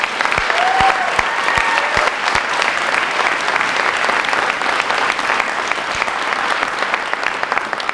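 A banquet audience at a high school senior dinner gives a long, steady round of applause for a retiring teacher: dense, even clapping from many hands filling the room, with only a few voices faintly underneath.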